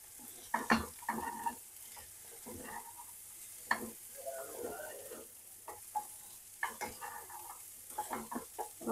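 Raw cluster beans fry over high heat as they are stirred in a pan, with repeated scraping, clattering strokes over a soft, steady sizzle.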